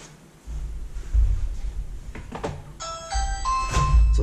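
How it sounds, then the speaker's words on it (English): A Ring video doorbell is pressed, followed by the Ring Chime unit sounding a clear multi-tone electronic melody that steps through several bright notes over a low background hum in a quiet room. "So the first one that you heard, that was the ring doorbell itself. Then the second part is the chime."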